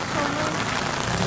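Rain falls steadily at a pier, a dense, even hiss of drops striking surfaces that fills the short moment without a break.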